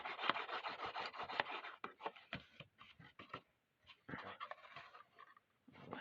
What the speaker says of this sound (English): This is a little trickier to burnish.